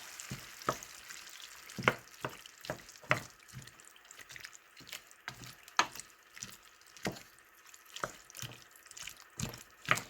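Diced canned tomatoes being stirred around a pan for a Portuguese-style cod dish, with a series of sharp utensil scrapes and knocks repeating every half second or so over a quiet, wet background.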